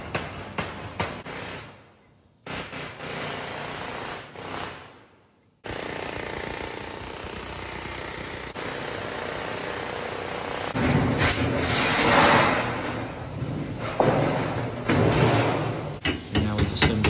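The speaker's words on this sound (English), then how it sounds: "Now he's seating the pitchfork before he hammers it over." Sheet metal is hammered over a pitchfork seam on a rectangular duct elbow. The blows come as rapid, loud, repeated metallic strikes in bursts with short pauses, and the strikes grow harsher toward the end, with no voices.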